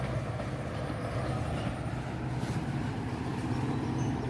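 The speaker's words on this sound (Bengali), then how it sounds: "ও যে ট্রেনটা যাচ্ছে" A train passing near a park, heard as a continuous loud low rumble and rolling clatter that holds steady throughout, with no voices over it.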